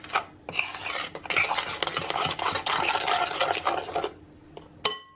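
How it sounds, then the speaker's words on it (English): Coconut flour is worked into cookie dough with a utensil in a bowl, giving close scraping and rubbing strokes in uneven bursts with brief pauses and a small clink at the end. "And then mix in the coconut flour."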